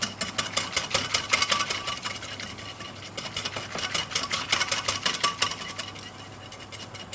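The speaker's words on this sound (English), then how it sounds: "I'm going to whisk in flour" A whisk beats flour into turkey broth for Thanksgiving gravy, making a fast, steady clicking and tapping against the pot that stays close and moderately quiet throughout.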